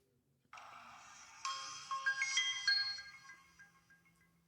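Samsung Galaxy Prevail smartphone powering on plays a bright, high-pitched electronic startup chime, a soft lead-in then a rising cluster of sparkling tones that fades out over a few seconds, close and alone.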